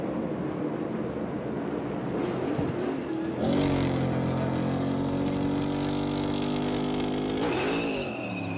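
A big pack of NASCAR stock cars at the Daytona 500 roars out of turn four, engines droning loudly and steadily before swelling into a louder, rising surge as the field accelerates back up to speed.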